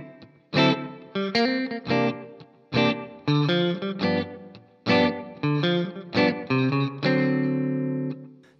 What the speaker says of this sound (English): then we're gonna play this little turnaround lick. So that's gonna sound like this.